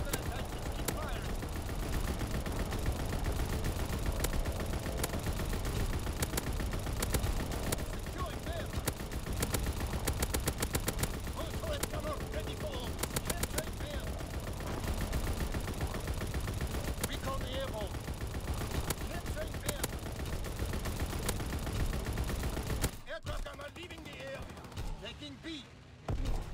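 A ball turret machine gun fires in a video game in long, unbroken loud bursts, with dense rapid rounds and battle noise filling nearly the whole span, then the firing briefly breaks off and resumes near the end.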